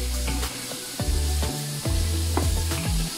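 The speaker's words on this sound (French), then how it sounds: "les légumes sont bien en train de mijoter." Vegetables for fish soup cooking in a pot, a close steady sizzle and bubbling with a few soft stirring knocks and scrapes.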